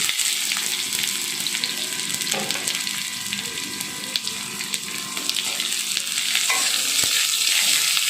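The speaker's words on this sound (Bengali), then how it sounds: "দিয়ে পেঁয়াজগুলোকে একটু লাল লাল করে ভেজে নিচ্ছি" Chopped onions frying with cumin in a pan for a ridge gourd dal, a continuous close sizzle with occasional spoon scrapes and stirring throughout.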